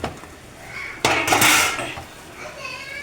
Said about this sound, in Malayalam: ഈ ചിക്കന് ഇതിലേക്ക് മിക്സ് ചെയ്യാം